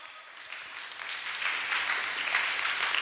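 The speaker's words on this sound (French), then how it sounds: "On acclame, c'est avec les parents." An audience claps at a Sunday gathering, a crowd's applause rising gradually and holding as a dense, steady patter of hands for a few seconds, with no talk over it.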